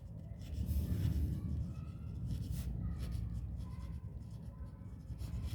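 Marker or chalk scratching across a board as a math teacher writes out a right-angle triangle example, steady low scraping strokes continuing for several seconds with no talking.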